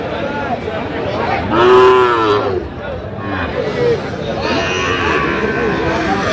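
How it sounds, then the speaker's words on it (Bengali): Sahiwal bull calves at a cattle market in Kurigram, Bangladesh, let out a loud drawn-out moo over a steady babble of nearby buyers and sellers talking, with softer lowing from other cattle later. "ষাঁড় বাচ্চা"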